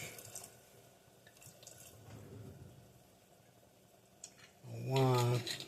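A splash of wine poured into a hot cooking pan, giving a sudden loud sizzle and hiss that rises near the end, after quieter kitchen sounds with faint drips and clinks.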